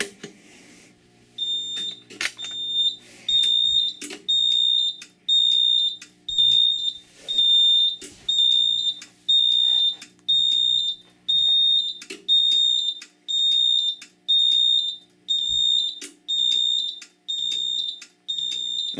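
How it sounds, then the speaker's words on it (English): A Simplex 4010 fire alarm panel sounds in a steady repeating pattern of loud high-pitched tones, roughly one per second, with no talking. "show you guys these things going into fire alarm"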